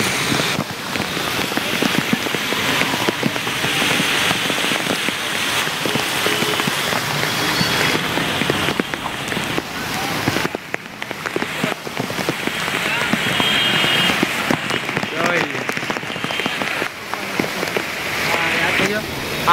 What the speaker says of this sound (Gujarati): વરસાદ જરા જરા ધીમો પડ્યો